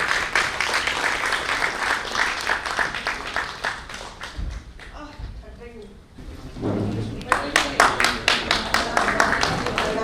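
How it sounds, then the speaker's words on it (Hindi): Audience applause at a Hindi book launch event, with clapping at the start that fades into a quieter stretch of shuffling and talk, then a fresh burst of clapping near the end. "जोरदार तालियां उन्हें"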